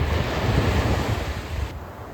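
Ocean waves roll in close on a beach on a cloudy day, a loud, close wash of surf with breezy microphone rumble, swelling and then easing off near the end, with no voices.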